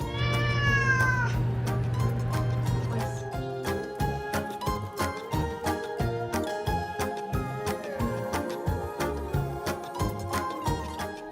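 An orange cat gives a clear, drawn-out meow at the start, then the sound is carried by steady rhythmic music with light jingling for the rest.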